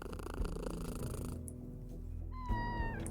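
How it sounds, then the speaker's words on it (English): A game cat purring as it is petted, a soft continuous rumble with a short rising meow-like chirp near the end, alone with no talk. "I wonder how many times I can pet the kitty before the game gets mad."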